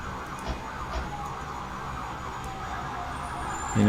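Emergency vehicle sirens wail faintly in the distance in the EmergeNYC game, a steady undulating tone under low background rumble for a few seconds, with no talking.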